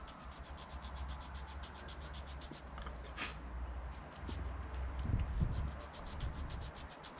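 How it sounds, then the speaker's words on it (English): Rhythmic abrasive rubbing of a mesh pad sanding a shallow-diving fishing lure, repeated back-and-forth strokes at a steady pace, close up. "Give it a bit of a nice sanding."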